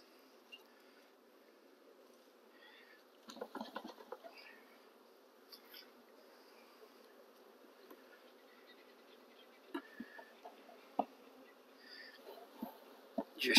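Honeybees on a hive frame make a soft, continuous droning hum, faint and steady, broken by a few light clicks and handling knocks.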